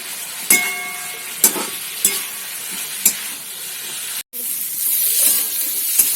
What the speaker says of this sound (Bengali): এর ভিতরে যে ভেজে রাখা কপি আছে এর ভিতরে আলু আছে আর বড়ি আছে তো ওর সঙ্গে দিয়ে কষিয়ে নেব